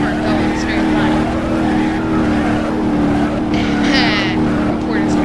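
A Bruckle Moonhawk car driving in the video game BeamNG.Drive, with a loud, steady engine drone and a rising rev near the end, under continuous talking.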